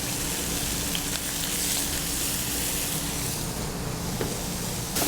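Shallot, herbs, roasted garlic and cherry tomato pieces sautéing in a pan for shrimp scampi bruschetta, a steady close sizzle with soft crackle, continuous and without talk.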